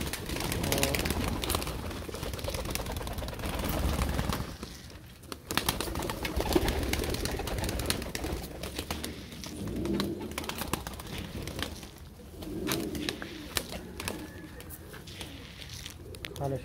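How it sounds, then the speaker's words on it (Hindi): A caught pigeon coos repeatedly in soft, low, rolling phrases close by, over a rough background of rustling and handling noise. "ये कबूतर पकड़ा था मैंने"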